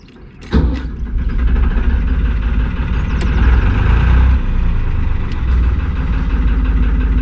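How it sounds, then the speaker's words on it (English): Narrowboat diesel engine cranks and fires with a sharp starting burst, then settles into a loud, close, steady rumbling idle that continues to the end. "So let's start this engine up and make a move."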